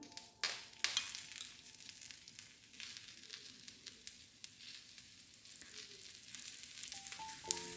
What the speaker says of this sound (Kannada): ಈಗ ತೆಂಗಿನೆಣ್ಣೆ ಹಾಕಿ ಎರಡೂ ಕಡೆ ಚೆನ್ನಾಗಿ ಫ್ರೈ ಮಾಡಿ.